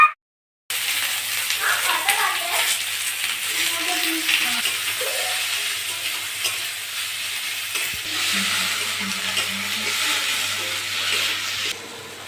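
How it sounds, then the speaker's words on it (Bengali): Onions fry in a wok in a steady, broad sizzle with occasional stirring clinks, a low hum running underneath, and a brief voice partway through. "এখন কড়াইয়ে পেঁয়াজ দেওয়া হচ্ছে।"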